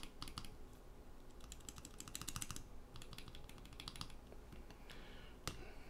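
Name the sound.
typing on lubed Novelkeys Cream keyboard switches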